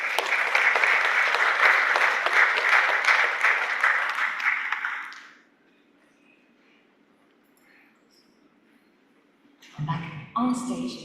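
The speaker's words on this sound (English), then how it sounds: "Let's give them a big round of applause." An audience at the Pi Africa 2024 opening ceremony gives a strong round of applause for about five seconds, then it fades to near silence before a voice returns over the sound system.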